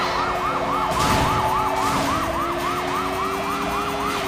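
Wailing police siren in the Sleeping Dogs video game chase, rising and falling steadily in a fast repeating cycle over a low engine hum, loud and close, with no talk.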